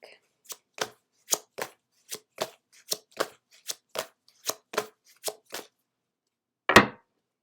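Tarot-style oracle cards from the Work Your Light deck being shuffled: about a dozen crisp, evenly spaced flicks and snaps close up, then a pause and one louder, fuller riffle to finish. No voices.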